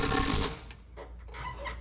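A small impact gun drives bolts on a Pettibone loader transmission, one loud sustained rattling burst that cuts off after about half a second, leaving faint workshop clatter.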